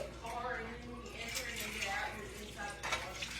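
An egg being turned in a frying pan in a home kitchen, a soft scrape and shuffle of the utensil over a quiet steady sizzle, with talk close by.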